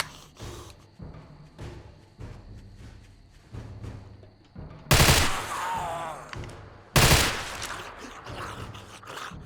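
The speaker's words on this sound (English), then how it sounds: "I like the 3-round burst on this" Three-round burst gunfire from a weapon in the modded video game 7 Days to Die: quiet rapid shot clusters early, then two loud, close bursts a couple of seconds apart, each trailing into scraping clatter.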